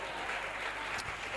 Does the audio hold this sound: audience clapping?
yes